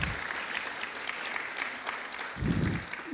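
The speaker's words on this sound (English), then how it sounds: "let's give them a round of applause." A large audience applauds patients standing at a welcome event; the clapping is continuous and full, holding a steady level with a brief low thump near the end.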